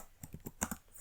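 A computer keyboard tapped in a quick burst of several keystrokes, close and crisp, with a slightly louder pair of presses near the middle as text is copied and pasted into Word; no speech.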